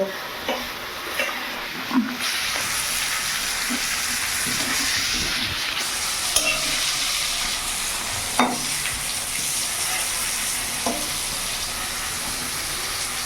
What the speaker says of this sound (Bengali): পটল ভাজাটা যতক্ষণে মা ভাজছে